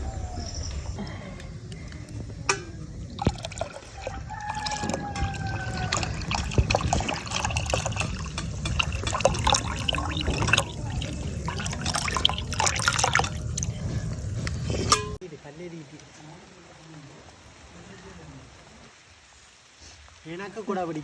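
Rain water drips and trickles into a cooking pot, a busy wet patter for about fifteen seconds before it drops to a quieter, sparser dribble.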